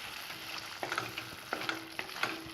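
Coriander-mint paste with fennel powder and turmeric being stirred into tomatoes in a frying pan, a soft steady sizzle with a few scraping strokes of the spoon at intervals, close and fairly quiet, no talking.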